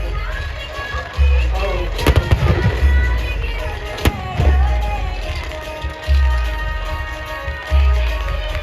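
Firecrackers bursting at a Ravan Dahan effigy burning, repeated loud bangs and crackling volleys, some sharp and close, with a crowd murmuring faintly in the background.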